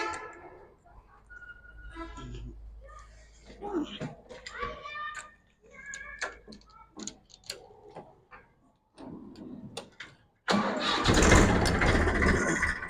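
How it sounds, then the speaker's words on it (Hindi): A 2007 Massey Ferguson 241 DI tractor diesel engine cranks and fires, bursting into a loud, steady broadband idle near the end after clicks and someone talking in Hindi. "हल्का सा चाबी का इशारा दिया और ट्रैक्टर स्टार्ट हो गया।"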